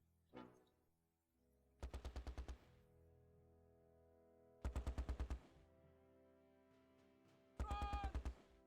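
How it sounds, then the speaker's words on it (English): A .30 caliber machine gun fires in the video game Close Combat: The Longest Day, on Sword Beach, in three loud, close bursts of rapid shots, each under a second long and spaced a few seconds apart over a low background hum. "Sounded kind of 50 cali, but it is a 30 cal."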